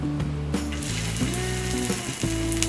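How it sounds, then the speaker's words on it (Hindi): A rajgira paratha sizzles on a hot tawa griddle, a steady close frying hiss with faint scraping and clinking from the cooking. "इसे हम तवे पे डालेंगे"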